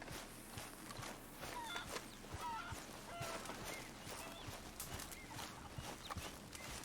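Farmyard birds in the Red Dead Redemption 2 video game cluck and chirp in short scattered calls over a steady rustling, footstep-filled outdoor ambience, fairly faint, with no talk.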